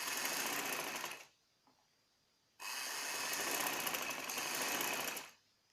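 A sewing machine runs long basting stitches for gathers on a cherry-design baby frock, two steady whirring bursts separated by a brief pause, close and alone.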